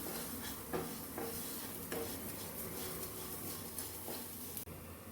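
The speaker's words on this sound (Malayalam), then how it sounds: "പഞ്ചസാര ആഡ് ചെയ്ത് നന്നായി ഒന്ന് മിക്സ് ചെയ്ത് കൊടുക്കാം." Sugar being stirred into a frying banana filling for unnakkaya in a pan, a steady soft scraping and sizzling texture with a few sharper utensil knocks against the pan, close and continuous with no talk.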